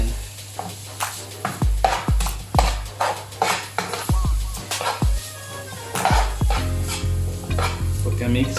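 Lechon paksiw sauce is stirred in a sizzling pan with rhythmic scrapes and clinks of a utensil against the metal, about once a second over a steady bubbling sizzle, with no one talking.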